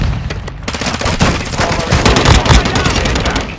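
Gunfire in Call of Duty Warzone Mobile, loud rapid bursts of automatic shots and booming reports in a busy multiplayer battle, with radio-style callouts mixed in underneath.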